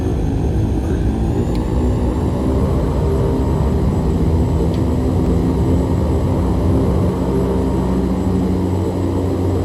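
The turboprop engines of an OV-10 Bronco drone in a VR flight game, a loud, steady propeller roar filling the cabin without pause, with no speech over it.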